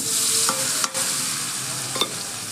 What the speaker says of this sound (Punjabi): ਦੋ ਟਮਾਟਰ ਮੈਂ ਕੁੱਟ ਕੇ ਪਾਤੇ ਤੇ ਤਿੰਨ ਗੱਡੇ ਤੇ ਦੋ ਤਿੰਨ ਮਿਰਚਾਂ ਜੀ ਇਹਨਾਂ ਹਰੀਆਂ ਤੇ ਆਪਾਂ ਲਾਉਣੇ ਜੀ ਤੜਕਾ